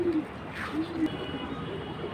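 Pigeons of old breeds such as high-flying silver, khaki and green-necked birds coo softly in short, low repeated phrases over steady background noise, fairly close by.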